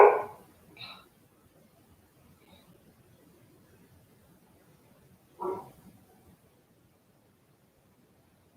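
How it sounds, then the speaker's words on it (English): A dog barks indoors in short, fairly faint bursts: a couple of quick barks at the start, another brief bark midway, with quiet gaps between. "Sorry for the barking, but he's not going to stop."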